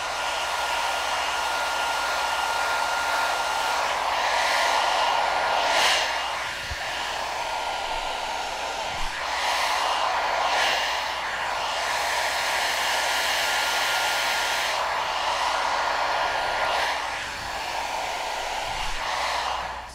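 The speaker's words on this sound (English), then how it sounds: "We're gonna go ahead and do the same exact thing and blow dry forward." A T3 Afar travel hair dryer blows steadily and loudly up close while styling hair with a round brush, its broadband whoosh continuous with brief dips and surges as the airflow is angled.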